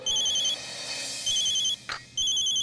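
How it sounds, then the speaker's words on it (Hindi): Telephone ringing with an electronic trilling tone, loud and close, in repeated bursts with brief gaps and a short muffled bump between rings. "किसका फोन है?"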